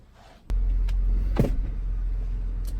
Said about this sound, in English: let's go ahead and start the car up